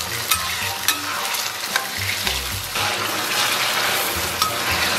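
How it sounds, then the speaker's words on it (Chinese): Pork trotters stir-fried in a wok with chili paste and bean paste, a steady close sizzle with the rustle and scrape of a spatula stirring, occasional louder clacks against the pan, no voices. "给它炒出红油。"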